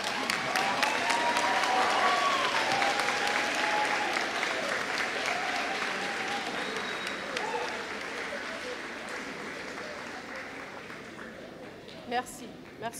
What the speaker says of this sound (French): Merci de les applaudir et les remercier chaleureusement.